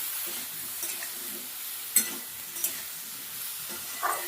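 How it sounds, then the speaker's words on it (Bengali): Vegetables, potato and eggplant with salt and turmeric, sizzle softly in a pan while being stir-fried, a steady faint hiss broken by a few sharp scraping clicks of the spatula. "হলুদ লবণ দিয়ে একটু ভাজা ভাজা করে নিচ্ছি"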